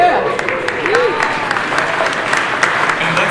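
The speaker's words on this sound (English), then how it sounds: "let's give Kale a round of applause" Audience at a DEFCON security conference talk claps and cheers, a steady roomful of applause with a few whoops, fairly loud and close, while a voice briefly speaks over it at the start.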